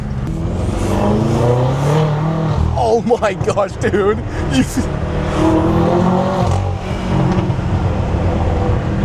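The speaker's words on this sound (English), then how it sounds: "the sound of the freaking turbos through the intakes is insane" A modified BMW M5 with turbos wails under hard acceleration, loud and close, with rising revs, turbo whoosh and crackling exhaust pops on lift-off, while someone speaks excitedly over it.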